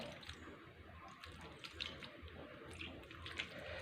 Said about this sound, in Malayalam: ഇനി കുറച്ച് വെള്ളം അങ്ങോട്ട് തളിക്കും